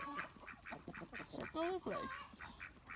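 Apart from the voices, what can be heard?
hen cackling after laying an egg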